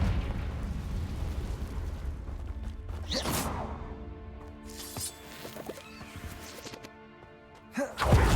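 Confringo fire spell explosions in the video game Hogwarts Legacy, a few sharp fiery bursts and crashes over a steady rumbling game backdrop, with a heavy boom near the end.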